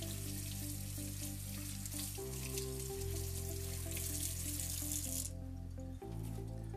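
Tap water runs steadily onto a Dr Cool cooling wrap, a continuous close hiss and splatter with no voices, while a low steady hum and tonal layers sit beneath the flow throughout.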